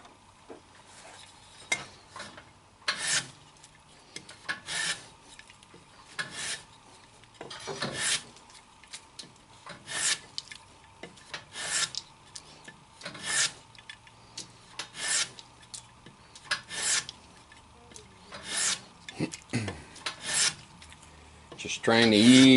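Rhythmic rasping strokes of sanding or filing smoothing the underside edge of a hexagon-rimmed wooden bowl, repeated passes in a steady pattern, close and moderately loud, with no talking.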